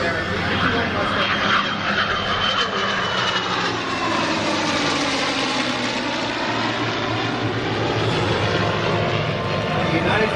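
A World War II era Mustang fighter roars overhead at an air show, its propeller engine loud and steady, the pitch sweeping down as it passes with a strong rush of air, while a voice announces over it.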